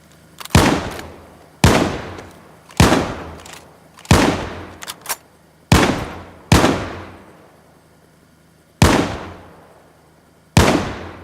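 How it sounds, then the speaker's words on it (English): Gunfire in the PvP survival game DayZ: nine sharp, loud shots spaced about a second apart, each with a ringing decaying tail, one followed by a quick double crack, and no speech over them. "I'm assuming that's you shooting"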